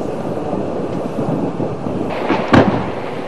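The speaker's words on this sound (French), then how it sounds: "Ce sont les feux d'artifice annonciateurs du nouvel an à Bamako" New Year fireworks fired from the heights of the presidential palace in Bamako, heard as a distant rumbling wash with a sharper crack near the end, outdoors in the open air.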